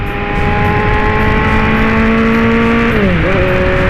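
A Kawasaki Z800 motorcycle converted to ZX8 accelerates while ridden, a loud close engine drone with wind that climbs steadily, then dips briefly as it shifts gear.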